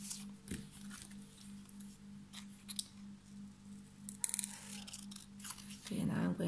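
Scissors cut along a folded strip of paper in a few soft, close snips over a faint steady hum, followed by a brief rustle at the end.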